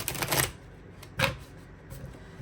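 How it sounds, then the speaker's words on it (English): A deck of cards is shuffled during a card reading, two short, crisp riffling bursts separated by a pause, close and fairly loud, with no talking. "Okay, one more shuffle, and then I'm going to cut the deck."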